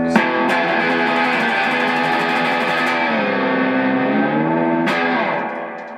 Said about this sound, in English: You can switch on the distortion, it really growls.